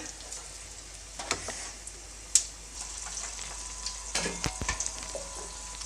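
Okra mirchi bajji fry in hot oil with a soft, steady sizzle, broken by a few sharp clicks and light stirring clatter close by, with no voices.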